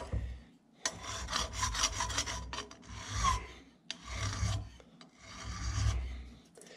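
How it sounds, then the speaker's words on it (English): Rough rasping strokes of a chainsaw file on a brass carburetor float from a 1941 John Deere H, several bursts in a steady back-and-forth rhythm with short pauses between, close and fairly loud. "The chainsaw file is going to cut pretty aggressive"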